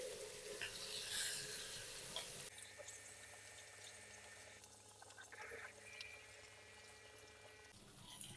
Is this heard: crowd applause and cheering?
no